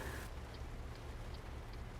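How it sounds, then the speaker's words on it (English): Steady rain in American Truck Simulator, a constant even hiss with low rumble beneath, no voices and no distinct drops standing out. "Oh, it's raining again."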